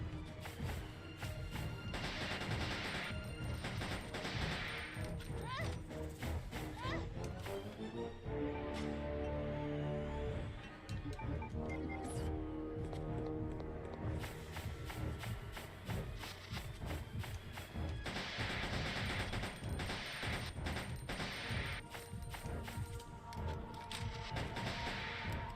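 Gunfire and crashing combat from the video game Resident Evil: Code Veronica, repeated sharp shots and thuds over footsteps and game music, moderately loud with a calmer stretch in the middle.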